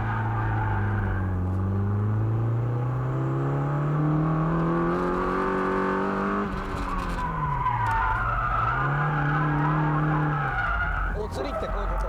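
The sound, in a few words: drifting car skidding and spinning out after late countersteer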